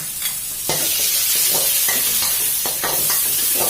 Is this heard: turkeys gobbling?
no